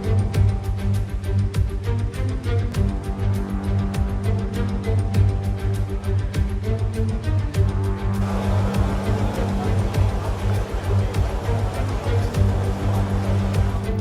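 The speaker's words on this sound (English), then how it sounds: "it's absolutely pissing down with rain" Heavy rain in F1 23, a steady broadband wash of downpour over a droning race car engine, the spray growing louder and hissier partway through, with no talking.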